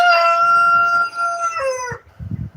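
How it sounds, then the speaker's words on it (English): A rooster crows loudly and close by with long harmonic calls in a garden, followed by a few short clucks from chickens. "I know y'all hear the chickens."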